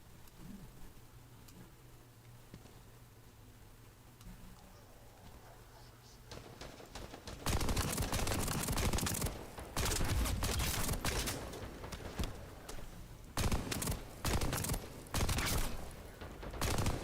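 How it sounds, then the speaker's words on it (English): Pulse rifle fire in a looter shooter video game, loud rapid bursts of shots coming in repeated volleys after a quieter opening stretch, near and continuous with short gaps between bursts. "For a pulse rifle, this thing is pretty accurate."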